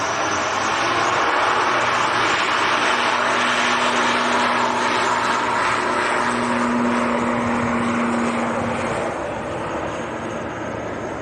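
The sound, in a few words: Loganair aircraft departing for the Isle of Man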